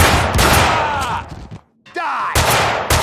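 Video game gunfire in Max Payne 2, with dense overlapping bursts of shots and impacts. A brief lull falls in the middle before the firing resumes, loud and close, with a character's voice mixed in.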